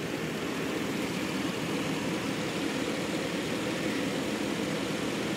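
An LS3-swapped Jeep JK engine idles with the air conditioning running, a steady low rumble mixed with a broad fan-like hiss, even and unbroken throughout.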